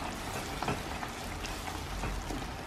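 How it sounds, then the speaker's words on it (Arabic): Red sauce with garlic fries in a covered pan, giving a steady, close sizzle with fine crackling pops throughout and no voices. "ونخليها تتقلى وطيب عقلها"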